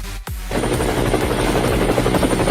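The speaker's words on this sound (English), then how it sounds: "Helicopter! Helicopter! It's pretty! Let's catch it!" A helicopter's rotor gives a loud, close, steady chopping drone that fills the whole stretch without a break.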